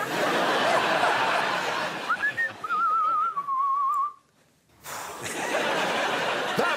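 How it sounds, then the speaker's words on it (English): A person in a TV studio whistles a short wavering tune for a few seconds over steady audience chatter and laughter, then a brief silence before the crowd noise returns. "Can we see an in-studio whistle?"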